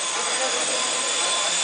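A V913 400-size 4-channel fixed-pitch RC helicopter in flight gives a steady, loud high-pitched whine and rotor buzz that holds constant throughout, close by and alone.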